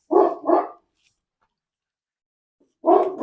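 Dogs bark outdoors: two quick barks, a silent gap of about two seconds, then another pair of barks, all fairly close and sharp with no talking.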